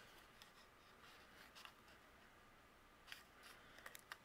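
Scissors trimming paper pieces for a handmade card: a few quiet, close snips and crisp paper rustles scattered over a faint background, with clustered cuts toward the end.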